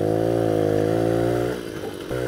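A Soviet Riga Mini RMZ 30 moped's small two-stroke engine runs loud and close with a steady buzzing drone that drops in pitch and level toward the end, then picks back up.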